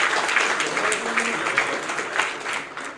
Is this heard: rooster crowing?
no